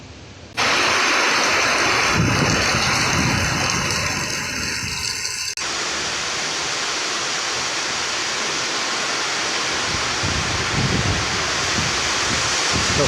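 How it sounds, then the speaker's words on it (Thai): Heavy rain pours down steadily, a dense broadband hiss that starts abruptly and continues loud and unbroken, with faint tonal hum early on fading out. "มาแล้วมาแล้วฝน"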